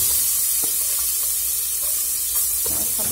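Onion fries in a pan for a homemade macarronada. A steady bright sizzle and hiss fill the short stretch, with a couple of soft clinks and stirring sounds close by and no talking.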